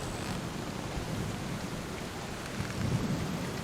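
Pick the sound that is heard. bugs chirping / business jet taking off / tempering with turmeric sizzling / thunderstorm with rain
thunderstorm with rain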